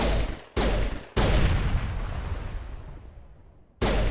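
Heavy gunfire rings out in the video game Mass Effect 3 inside a bunker complex: loud, dense bursts that stop abruptly, a long blast that fades into a decaying roar, then another sudden burst.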